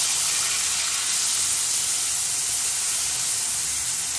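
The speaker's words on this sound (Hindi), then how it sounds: "प्याज को अच्छे से गोल्डन कलर होने तक भून लूँगी अच्छे से" Onions frying in hot oil for a fish kalia curry, a loud, dense, continuous hissing sizzle close by, steady throughout with no voices.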